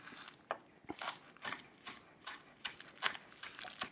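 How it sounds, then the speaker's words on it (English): A knife thinly chops folded sheets of nori on a cutting board, a run of quick, crisp taps spaced irregularly at close range with no talking. "just really thinly chop it"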